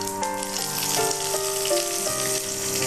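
Curry leaves and dried red chillies crackle and sizzle in hot oil while mustard seeds are tempered, a steady close frying hiss running throughout with no talking.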